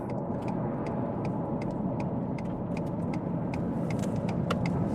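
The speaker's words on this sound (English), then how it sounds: "Do some wide open throttle action." A modded 2.7L Ford F-150 regular cab truck roars at wide open throttle, its deep engine rumble heard from inside the cab, steady and loud, with faint clicks over it.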